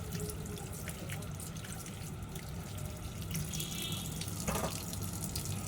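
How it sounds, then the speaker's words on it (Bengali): Running tap water pours steadily over mangoes being washed in a sink, a continuous close splashing hiss with faint clinks of fruit handling. "আমি আমগুলো এবার ধুয়ে নিচ্ছি ভালো করে"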